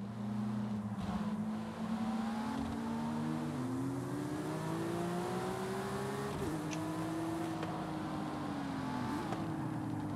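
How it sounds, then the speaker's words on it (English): Stock Porsche GT3 RS engine racing in Forza Horizon around a tiny bike circuit, a steady loud rev that climbs and falls with gear shifts and brief lifts, continuous throughout with no talk. "racing a stock GT3 RS around the tiny bike circuit located on the expansion"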